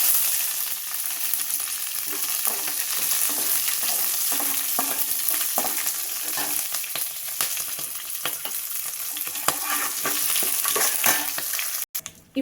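Mustard seeds, chana dal and curry leaves crackle and sizzle in hot oil for a tempering, with a steady frying hiss peppered by sharp, scattered pops heard up close throughout.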